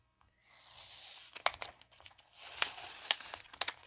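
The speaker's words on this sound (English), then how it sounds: "I'm just going to peel this all off" Excess heat-transfer vinyl peels away from the backing of a Cricut-cut shirt design, two long close ripping tears with sharp crinkles and snaps between them, quiet surroundings and no talk.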